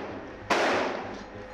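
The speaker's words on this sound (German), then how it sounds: "Immer wieder fallen Schüsse." A single sharp gunshot during street fighting in Khan Yunis, a loud sudden crack with a decaying tail over a low background rumble.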